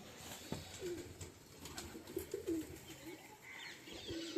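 Pigeons coo softly in a few low, murmuring calls, faint and somewhat distant over a quiet background hiss.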